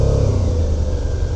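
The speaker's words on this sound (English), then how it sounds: "Here, see how high mine's revving?" A motorbike engine holds high revs at walking pace during a riding lesson, giving a loud, steady, close droning rumble with no talk over it.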